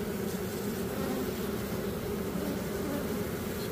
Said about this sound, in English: the bees are way piling out like crazy. Ton of bees everywhere.